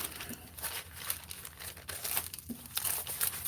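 Coffee-dyed paper pack being crinkled and handled up close, a steady rustling and crumpling with a few sharper crackles, no voices.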